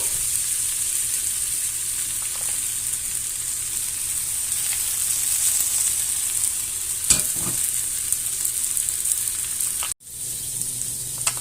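A butter-basted rib-eye steak sizzles steadily in a cast iron pan, a continuous loud frying hiss with a few faint utensil touches and a brief cutoff near the end.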